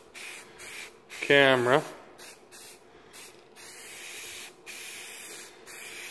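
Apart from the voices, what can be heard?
spray paint rattle can spraying primer on motorcycle parts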